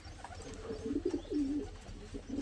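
Racing pigeons coo at their loft in the morning, a few soft throaty rolling calls rising and falling at close range over quiet background.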